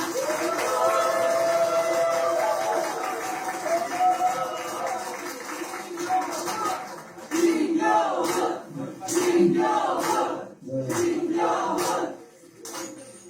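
Crowd of supporters cheering and clapping for an election winner's arrival, a loud continuous roar of voices and shouts that breaks into bursts of clapping and chanting toward the end.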